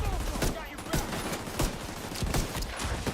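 Rapid pistol gunfire in The Division 2 video game, a dense run of sharp repeated shots crackling at close range with little pause between them, faint background chatter mixed in.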